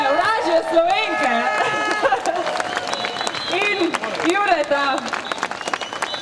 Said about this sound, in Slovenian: dajte en velik aplavz za